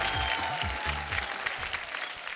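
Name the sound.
audience applause welcoming the judges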